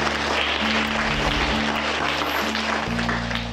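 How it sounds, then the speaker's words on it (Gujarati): Applause from an audience at a village primary school Independence Day drawing competition as a student receives a prize, steady dense clapping sustained throughout with a low hum underneath. "જોરદાર તાળી પાડશું."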